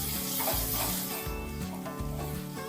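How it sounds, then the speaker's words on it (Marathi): Tomato, onion and crushed garlic fry in hot oil, a loud continuous close sizzle with stirring scrapes throughout, no voices. "टोमॅटो कांदा आपण चांगला तेलामध्ये भाजायचा आहे।"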